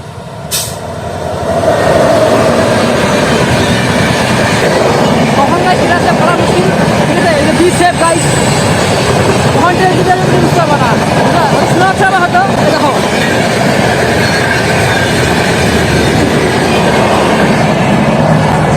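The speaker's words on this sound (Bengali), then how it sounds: "ঠোমে ট্রেন আসছে দেখো যাচ্ছে ট্রেন" A train passes on a railway track in the rain, a loud sustained rumble and rattle of wheels and carriages rising in the first seconds and holding steadily, with voices faintly underneath.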